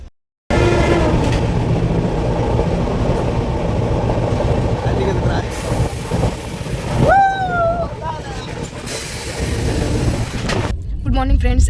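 A passenger train bound for Mumbai rolls along at speed, giving a steady, loud rumble and rattle throughout, with a rising whistle- or horn-like tone sweeping through midway.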